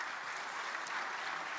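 A studio audience applauds quiz contestants on a juniors' quiz show, a dense, even burst of clapping that holds steady and close throughout.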